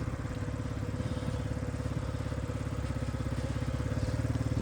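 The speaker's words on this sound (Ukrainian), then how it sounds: "Гарно, тихенько працює двигунчик, питань до роботи двигунчика в мене немає." A Yamaha Jog SA36 fuel-injected scooter engine idles nearby, a steady, even putter with a fine rapid pulse and light mechanical clatter, continuous and unchanging with no talking.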